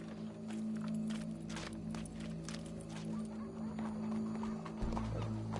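Horse hooves clip-clop and a horse whinnies in Red Dead Redemption II, heard faintly at a distance over a low steady game ambience, with irregular hoof strikes spread across the moment.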